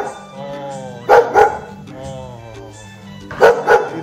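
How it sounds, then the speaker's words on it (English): A dog barks in Nepal, two short double-bark bursts rising clearly over ongoing talk near an old house. "Oh, there's a dog."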